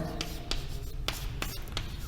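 A pen or marker scratches out a physics equation by hand in short strokes with distinct taps, close and fairly quiet under a faint room hum.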